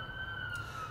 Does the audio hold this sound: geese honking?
no